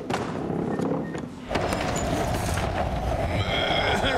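Cartoon horses break into motion with a whinny and then a rapid run of galloping hoofbeats, loud and close, filling the short stretch without voices.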